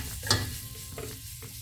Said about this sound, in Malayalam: ഇനി ഇതൊന്ന് ഇളക്കി യോജിപ്പിക്കാം.